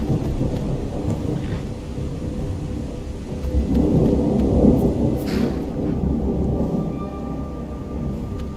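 Steady rain and rolling thunder from a lightning storm in the video game Skyrim, a dense continuous rumble that swells in the middle and carries on throughout.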